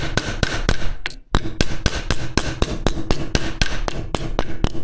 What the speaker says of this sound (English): tapping. But then only use a light hammer for it.